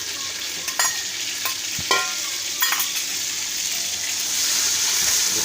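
Ginger, garlic and green chili frying in a pan while being stirred with a spoon, a steady sizzle with several sharp scraping clinks of the spoon against the pan, no talk.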